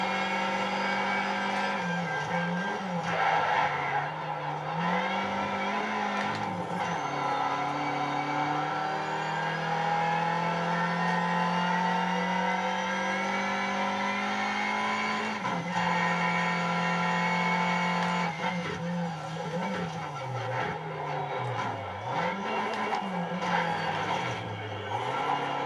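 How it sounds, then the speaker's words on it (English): Turbocharged front-wheel-drive race car engine in the racing game Need for Speed Shift 2, droning steadily and loudly throughout with rising and falling revs, gear changes and a faint whistling turbo note layered over the roar. "I just realized this thing has a turbo"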